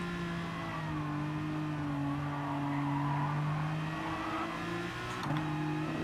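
A car in the Gran Turismo Sport racing game loses control, with a steady engine drone and tire tones shifting as it skids, then a brief knock near the end.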